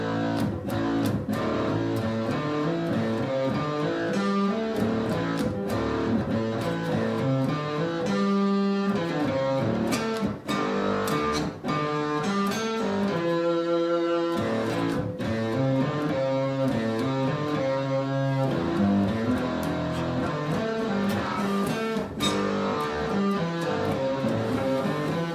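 Guitar improvises freely on the pentatonic scale, a continuous flow of melodic notes over a steady accompaniment with a slightly distorted tone, played alone without talk.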